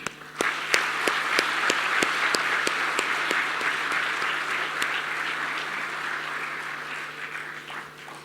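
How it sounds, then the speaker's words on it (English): A hall audience applauds the organizers of a management-school event, with sustained, even clapping from many hands that continues throughout, a few sharper claps standing out near the start. "I would like to ask all of you to kindly join me in applauding them and all others who worked with them on this event."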